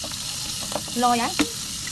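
Ginger and onion fry and get stirred in a pan for pinakbet, a steady sizzle with a couple of spatula scrapes, and a voice speaks briefly over it.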